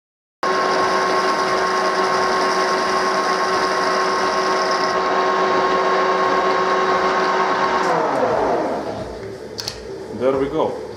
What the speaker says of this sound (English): I'm gonna use a 60-degree threading tool to do a chamfer.